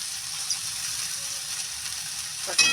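Onions and green peas fry in a pan, giving a steady close sizzle throughout with a brief scrape of stirring near the end.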